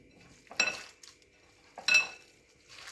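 A spoon clinks and scrapes in a bowl while keema is mixed with milk cream and egg, two distinct metallic strokes close up with quiet pauses between, no talk.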